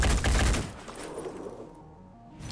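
Burst of gunfire from a tactical strategy video game, Phoenix Point, loud at the start and then trailing off into a fading ambient tail.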